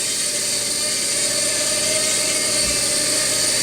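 Heli-Max 1Si quadcopter in flight, a loud, steady high-pitched rotor whine close by with a faint tonal hum, continuous throughout as it comes in to land.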